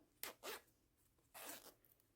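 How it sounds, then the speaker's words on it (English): Two quick zipper pulls on a crocheted backpack, faint and close, the first in two short bursts and the second in one longer rasp, in a quiet room. "we're going to open up the zipper"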